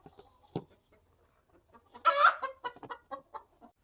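Hens guarding eggs cluck softly up close, breaking into a louder burst of squawking clucks midway before settling back to scattered clucks.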